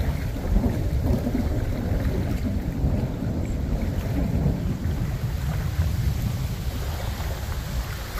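A thunderstorm during a lake fishing trip: loud, continuous rain and low rumbling thunder form a steady roar, with wind buffeting the microphone throughout and no voices.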